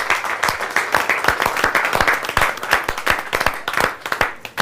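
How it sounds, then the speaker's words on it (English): A Heritage Day crowd at the Starke Ayres 145-year celebration claps and applauds in a brisk burst of scattered hand claps lasting a few seconds, fairly close and moderately loud. "give yourselves a round of applause"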